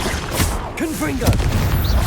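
Confringo blasting spell cast in Hogwarts Legacy, a short burst with crackling whooshes over a dense, steady game soundscape of music and effects.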